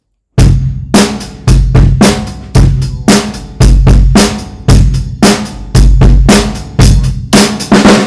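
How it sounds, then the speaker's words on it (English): A drum kit fill played past the bar line, loud and close, with a run of sharp tom and snare hits followed by heavy crashes in an irregular rhythm, alone with no talking. "if we were to go over the bar line and add more notes to it, it would sound like this"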